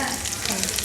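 Fish curry with cauliflower and potato cooking in a home kitchen, giving a brief, close, steady sizzle and bubbling with no pause.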